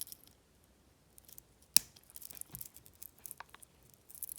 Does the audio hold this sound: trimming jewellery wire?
yes